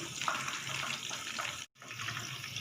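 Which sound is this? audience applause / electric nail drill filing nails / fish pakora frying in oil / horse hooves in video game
fish pakora frying in oil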